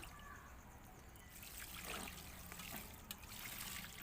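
Soft steady trickle of water splashing onto soil around leafy greens, faint and continuous over a low background hiss, with no voices.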